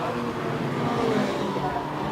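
Formula Ford race cars battling at Brands Hatch during a 2016 BRSCC National Championship round, a brief blur of engine roar from several cars at a distance under commentator talk.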